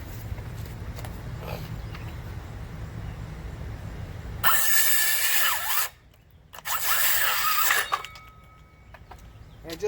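A battery-powered power tool, drill-like, whirs in two loud bursts of a few seconds each during a home repair, after a quieter stretch of low background noise.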